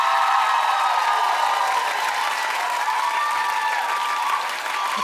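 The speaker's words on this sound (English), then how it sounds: "Clap." A crowd applauds steadily, dense clapping that holds for several seconds at a loud, even level before tapering slightly.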